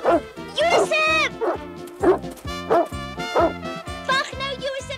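Dog named Josef barking with its nose in hay, a series of sharp yipping barks in quick succession, close and loud, over a cartoon music background.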